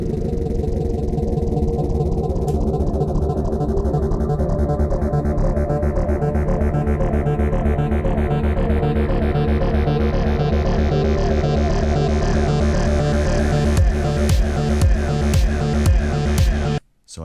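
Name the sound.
slowdown transition part of an electronic song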